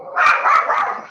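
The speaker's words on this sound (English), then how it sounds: "my dog joining in." A dog barks three times in quick succession, close and fairly loud, cutting into the near silence of an online transportation committee meeting.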